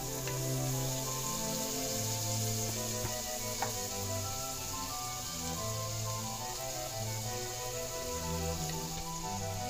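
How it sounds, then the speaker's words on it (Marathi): Finely chopped red tomato sizzling steadily in hot oil as it sautés for a spinach dal, a continuous close frying hiss with faint stirring. "तेही थोडे तेलावर परतवून घ्यायचे. यानंतर एक लाल टोमॅटो बारीक कापून घेतलेला तो घालायचा."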